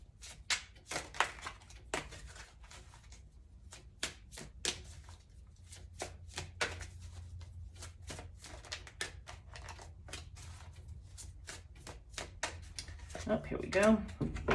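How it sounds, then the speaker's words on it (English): Essential oil oracle cards are shuffled by hand, giving a steady run of crisp, close flicks and slaps with a few louder snaps, ending in a brief rustle as a card is drawn. "let's just pull a essential oil oracle card"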